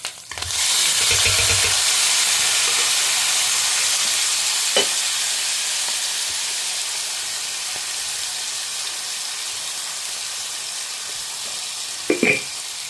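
Mustard seeds, asafoetida, green chilies and curry leaves crackle in hot oil for a tempering, a loud dense hiss that erupts at the start and slowly fades, with a few clinks near the end.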